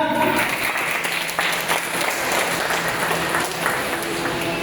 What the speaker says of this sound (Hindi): बच्चों एक बार तालियों के साथ